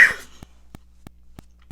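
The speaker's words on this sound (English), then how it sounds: "I apologize for coughing." A single short cough from someone with bronchitis bursts out at the start, followed by quiet faint ticking taps at a steady rhythm.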